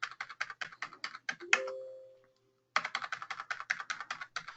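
Fingers tap out a student ID on a computer keyboard in a computer lab, a quick run of crisp keystrokes, a short pause broken by a single chime, then another steady burst of typing, close and clear with no talk.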